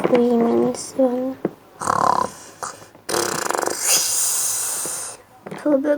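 A sleeping person snores loudly and close by in a run of rasping, wheezy snorts and ragged breaths, with a few voiced grunts at the start and a sharper burst near the end.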